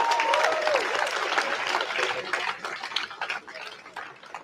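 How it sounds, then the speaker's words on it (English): Applause from a rally crowd, dense clapping that starts strong and gradually thins and fades toward the end. "I think that we should give him another round of applause"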